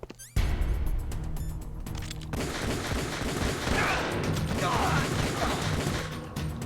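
Rapid video-game gunfire from Metal Gear Solid: The Twin Snakes bursts in after a brief quiet start and keeps up as a dense, loud, continuous volley with mechanical clatter.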